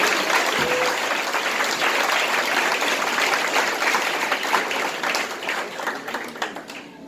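A congregation at a church service applauds at length, a dense and continuous roar of clapping that grows patchier and fades in the final seconds.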